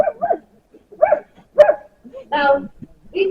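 A young sled dog puppy at a working sled dog kennel in Denali National Park barks and yips in short excited bursts, close by, with a person talking in between.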